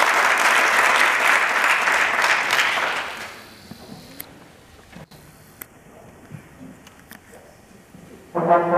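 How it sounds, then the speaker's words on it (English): An audience at a Lyman High School jazz band concert applauds warmly for about three seconds. The clapping fades into a quiet hall with scattered small knocks, and a short loud burst comes at the very end. "please welcome Bill Muse and the Lyman High School Jazz Band with a round of applause"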